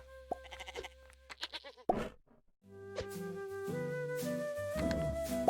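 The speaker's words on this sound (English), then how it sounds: "The goat has returned." A cartoonish goat bleat sounds in a cute critter puzzle video game, a few wavering cries over steady synthesized game music and chiming tones.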